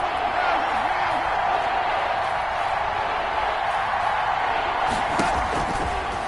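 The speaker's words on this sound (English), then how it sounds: "The crowd getting into it as we come up on a big 3rd down." Football stadium crowd at an NFL wildcard playoff game, Rams at Falcons, roaring steadily ahead of a big third down, a dense continuous wash of cheering with commentary over it.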